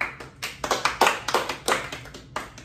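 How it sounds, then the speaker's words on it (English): A small group clapping hands at a kitchen-table podcast, a short ragged burst of close, uneven claps lasting a couple of seconds. "Let's get a clap."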